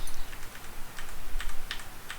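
Keys clatter on a computer keyboard in quick, uneven bursts of taps, close and clear with no voices over them.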